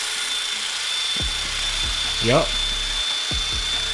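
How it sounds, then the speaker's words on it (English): Power tool buffing and sanding a Harley-Davidson tube, whining and buzzing in bursts with a brief rising squeal in the middle, close and fairly loud, with a short spoken word. "It's almost like it's buffing it a little bit."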